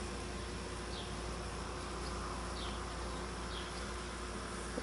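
Honeybees drinking at a backyard birdbath make a faint, continuous insect buzz, with a few brief higher whines as bees fly past, all over a steady outdoor hiss and with no talking.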